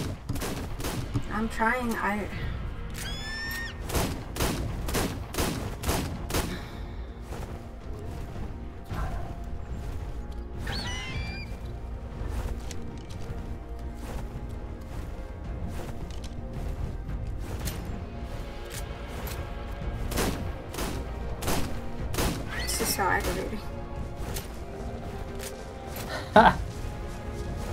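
Rapid bursts of gunfire aimed at brontosaurus dinosaurs in the survival game ARK: Survival Evolved on the Valguero map, with sharp repeated shots clustered through the first half and scattered later, someone talking over much of it.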